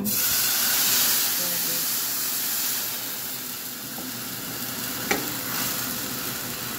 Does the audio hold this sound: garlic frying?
yes